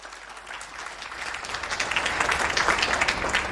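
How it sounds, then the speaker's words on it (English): Audience applause at an IEC-AFRC tenth anniversary event rises from scattered claps to full, dense clapping that grows louder toward the end. "We deserve an applause."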